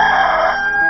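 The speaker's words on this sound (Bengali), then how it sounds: "আর বল্লুর মোরগটা চিৎকার করে ডেকে উঠল" A cartoon rooster lets out a loud, close crow, one sustained call lasting about a second.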